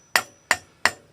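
A hammer taps on the end of an ATV axle during a Can-Am Outlander wheel bearing job, four sharp metallic strikes spaced evenly about a third of a second apart, close and clear.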